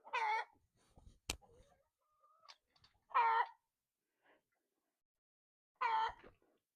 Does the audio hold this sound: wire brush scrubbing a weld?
no